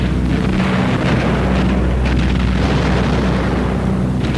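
Bombs bursting during a wartime bombing raid by massed American bombers, a dense continuous rumble of heavy explosions with repeated deep booms rolling over one another, loud and unbroken throughout.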